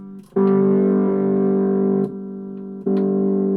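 Distorted electric guitar played through a small battery-powered amp cube, loud sustained buzzy notes held for over a second each, re-struck three times with brief pick attacks and no talking.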